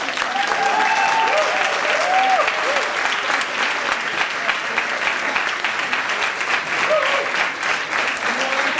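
An audience at a poetry reading in a club-restaurant claps loudly and continuously, a dense sustained wash of applause with a few whoops rising above it.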